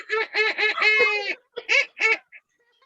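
Children's voices mimic a peacock or hen call, a run of loud, nasal, honking bursts rising and breaking off, followed by a few shorter squawks.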